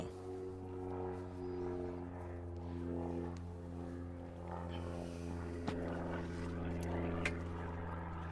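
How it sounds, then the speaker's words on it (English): A steady droning four-cylinder aerobatic plane engine hums with strong low harmonics during warm-up manoeuvres, its pitch shifting slightly as it revs, heard from a distance without any talk. "That characteristic pit sound. 4-pot, 4-cylinder engine."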